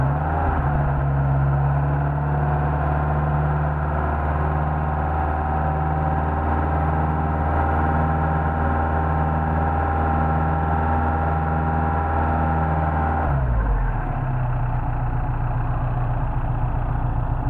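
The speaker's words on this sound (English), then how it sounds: "So there's a warmed up engine here." Warmed-up Mercedes 190SL engine running on carburetors, a steady close idle with a deep, even rumble that holds for most of the clip before the tone drops and settles lower near the end.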